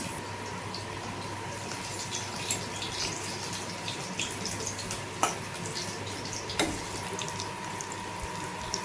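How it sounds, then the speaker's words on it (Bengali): Fish fries in a wok over a clay stove, a soft steady sizzle with faint clinks and a couple of sharp taps, no talking. "তারপরে মাছটাকেও ভেজে নেবো"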